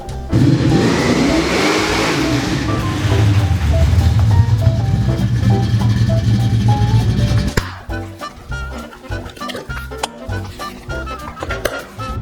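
A 1970 Dodge Challenger's engine revs loudly and rises while driving, a close, roaring drone that eases off into lower, rougher rumble and rattles.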